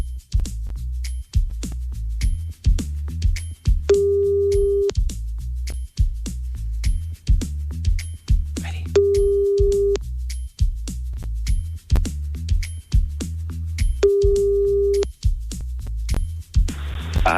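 A telephone line rings back repeatedly with evenly spaced ring tones during a radio prank call, set over a throbbing, pulsing music bed.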